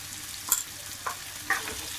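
Raw banana curry with turmeric stirred in a pan: three quiet, brief scrapes of a spoon against the pan spaced about half a second apart over a low background hum.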